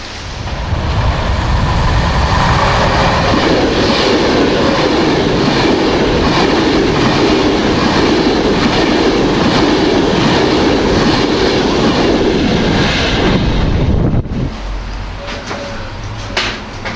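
Class 390 Pendolino electric train rushing past at speed, a loud sustained roar with rail clatter lasting about fourteen seconds before abruptly dropping away to quieter rumble.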